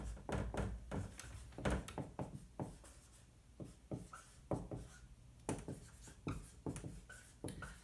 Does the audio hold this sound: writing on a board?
yes